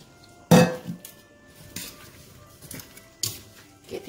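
Potatoes tipped into a pot of simmering pork chops in sauce, giving a loud clattering thud, followed by scattered metallic clinks of a utensil against the pot with no talking.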